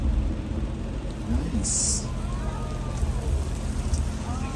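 Simulated rainfall from a special-effects rig on the Universal Studios studio tour, a steady broadband hiss of falling water throughout, with a person's voice briefly over it.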